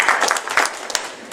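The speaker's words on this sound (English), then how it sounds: "You can applaud him?" An audience at a close-up card magic performance claps in a short, dense burst of applause, loud and close, fading slightly toward the end.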